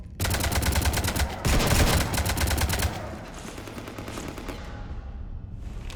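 Rapid automatic gunfire in the video game Mass Effect 3, dense bursts of shots for about three seconds, then fading into a quieter rumbling background.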